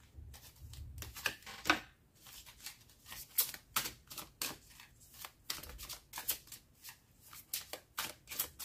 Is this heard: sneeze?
no